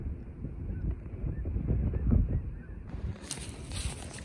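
Canada geese and snow geese honking in a mixed flock alongside mallard ducks in Iowa, a steady chorus of distant calls with light wind on the microphone.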